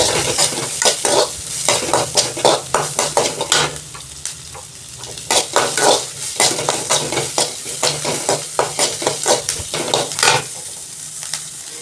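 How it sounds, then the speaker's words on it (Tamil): Onion sizzles loudly in a hot frying pan while a utensil stirs and scrapes repeatedly in quick, uneven bursts, close up. "அந்த வெங்காயத்தையும் அது கூடவே நல்லா வதக்கிடலாம்"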